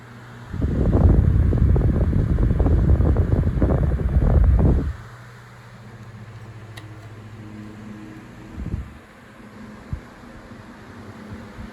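A vintage Galaxy 9-inch desk fan runs with a loud airy whoosh and buffeting for several seconds, then cuts out to a low hum and a few faint clicks as it spins down.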